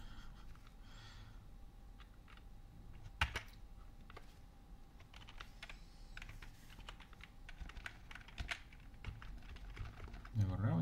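Someone types on a computer keyboard at a desk while coding. The keys click quietly and irregularly in short bursts with pauses, over a faint room hum, and no one speaks.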